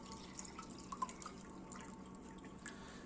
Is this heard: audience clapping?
no